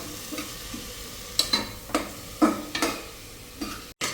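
Masala with mint and coriander leaves fries in a pan under a soft, constant sizzle, punctuated by several distinct scraping stirs of a spoon at irregular intervals.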